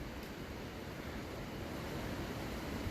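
Wind rushes through the Natural Bridge rock arch on a hiking trail. It makes a steady, faint broadband roar with no voices.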